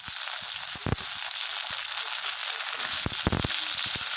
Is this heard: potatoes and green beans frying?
yes